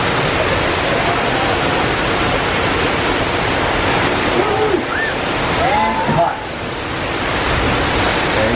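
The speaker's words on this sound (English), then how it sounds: "Here comes the water" Loud, steady rushing water on the Universal Studios Hollywood tour fills the whole stretch like a heavy spray or torrent, with faint voices calling out briefly underneath.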